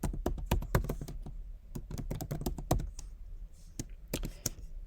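Rapid, uneven keystrokes on a computer keyboard while code is typed, close and clear, with short pauses between bursts of taps and no talking.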